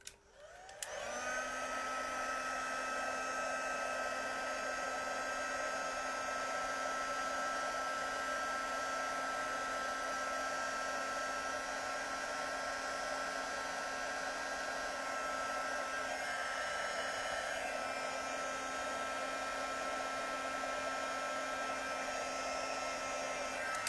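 A crafting heat tool blows steadily while melting embossing powder on a card, a constant whirring fan drone with a high whine that starts abruptly and runs unbroken.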